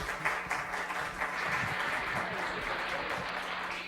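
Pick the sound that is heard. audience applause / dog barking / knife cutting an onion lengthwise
audience applause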